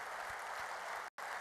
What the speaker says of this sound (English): So big applause for everyone.